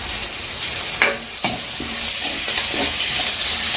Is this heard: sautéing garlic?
yes